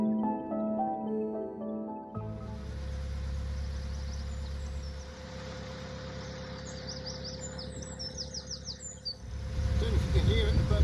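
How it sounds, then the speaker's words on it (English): A small wren sings from the bank beside a chugging narrowboat engine, rapid trilling phrases above a steady low drone after a spoken opening, with louder rumbling near the end. "a song of a wren, that was."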